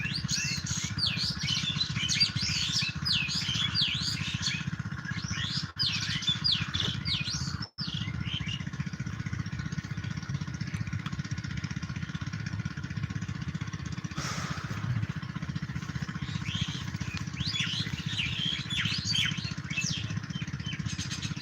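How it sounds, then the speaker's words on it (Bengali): Morning birdsong fills the air with many chirps and tweets repeating throughout. A steady, low engine-like drone runs underneath, and no one speaks. "কত সুন্দর দেখছেন, সকালে পাখির ডাক।"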